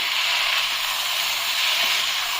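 A pan of jackfruit masala sabji sizzles steadily, an even hiss of frying with no breaks, heard up close and alone.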